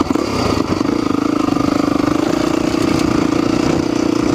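A Honda motorcycle engine runs loud and close, pulsing with a steady rapid beat as it holds high revs, with some mechanical clatter and no voices.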